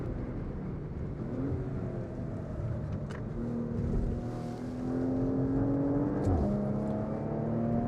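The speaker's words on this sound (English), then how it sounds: "Really satisfying burble from its 6-cylinder turbocharged engine." Six-cylinder turbocharged engine of a 2022 Porsche Macan GTS burbles and rises under throttle while driven hard on track, a steady close engine drone with pitch climbing and dropping through gear changes, no talk.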